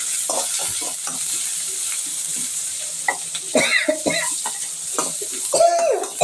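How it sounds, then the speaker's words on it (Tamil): Green chillies frying in hot oil in a pan while cooking prawn kola balls: a close, crackling sizzle with scattered sharp pops and scraping stirs. "எண்ணெய் காஞ்சோன்னா பச்சை மிளகா போட்டுருங்க"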